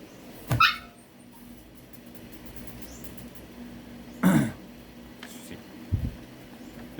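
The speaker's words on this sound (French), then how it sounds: "Le chien s'amuse à jouer avec la patte de table." A dog plays with a table leg indoors, giving three short separate bursts: a sharp yip early on, a louder scuffling knock midway and a brief thump near the end, all against a quiet room.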